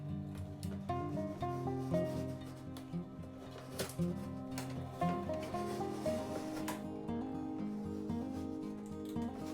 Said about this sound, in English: gonna cut it out with a drywall knife.